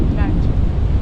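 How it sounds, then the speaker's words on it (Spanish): Steady low roaring wind buffets the microphone throughout on Superagüi island near Paranaguá, Brazil, a constant heavy rumble with faint higher whooshes. "está venteando muy fuerte, cambió el viento"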